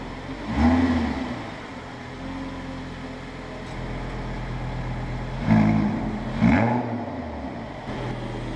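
An Audi R8 LMX engine idles with a low rumble in sport exhaust mode, then revs sharply in a few brief bursts, the exhaust note rising and falling.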